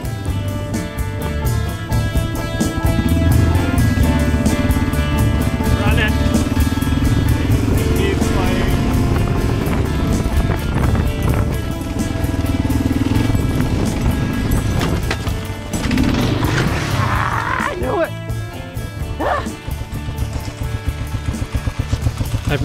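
A motorcycle engine drones steadily at close range, with rough crunching and rattling from a loose, washed-out gravel road underneath throughout, on the road to Batopilas in Mexico's Copper Canyon.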